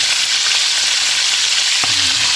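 Loud, continuous sizzling of oil in a pan while sautéing for sarsyado with fried milkfish, a dense close crackle that stays steady throughout, with a faint clink near the end.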